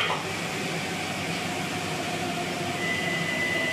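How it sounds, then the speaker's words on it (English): A Center City metro train rumbles steadily throughout, a loud, continuous roar with a faint high whine, heard from on board or close by. "taking the metro"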